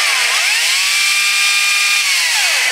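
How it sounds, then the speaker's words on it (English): A small Makita battery-powered electric chainsaw runs steadily at close range, its high motor whine holding one pitch after a quick spin-up and falling away as it winds down. "One of the chainsaws, smaller chainsaw here that we use."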